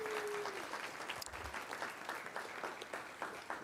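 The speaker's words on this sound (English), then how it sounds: "Give her a round of applause." Town board meeting audience applauding the Parks Commissioner, a moderate, slightly distant round of clapping that holds steady for a few seconds.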